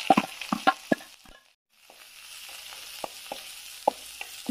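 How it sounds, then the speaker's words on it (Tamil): Small onions sautéing in oil for a coconut milk rasam, giving a quiet crackle with several sharp spatula clinks against the pan and a brief near-silent pause in the middle. "சின்ன வெங்காயம் ஒரு கைப்பிடி அளவு சேர்த்து நல்லா வதக்கிங்க."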